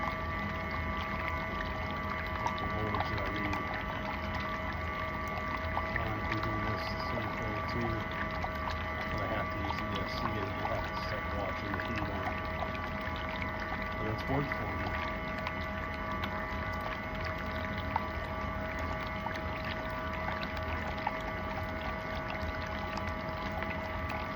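A brushed RC motor runs submerged in water during break-in, making a steady, constant whine with sloshing, bubbling water churning throughout at an even level.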